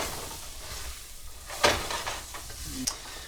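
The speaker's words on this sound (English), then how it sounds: "Get this cabbage in here starting to cook as well." Cabbage and cooked noodles saute together in a pan over heat, a soft sizzle with a few brief scraping and tossing bursts from stirring, close and without talk.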